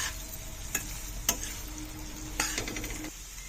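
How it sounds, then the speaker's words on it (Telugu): Ridge gourd pieces frying over a medium flame with ginger garlic paste, a steady low sizzle broken by a few sharp clinks of a spoon against the pan, close and without talk. "స్టవ్ ఫ్లేమ్ మీడియంలో పెట్టి 2 నిమిషాలు ఫ్రై చేసుకోవాలి"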